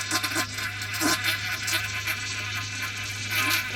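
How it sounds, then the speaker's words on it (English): RV toilet macerator pump running after the flush button is pressed, giving a steady, close electric buzz and hum that holds evenly throughout with no talking. "and it's supposed to be a macerator"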